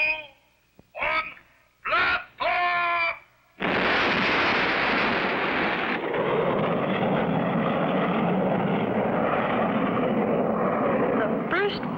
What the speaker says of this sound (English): You have 30 seconds before blasting off.